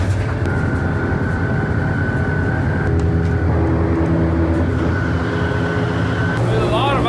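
A 2021 Ford Bronco truck, rebuilt after a wreck, rumbles and vibrates steadily while driving, with constant low road and drivetrain drone close by and no talk over it.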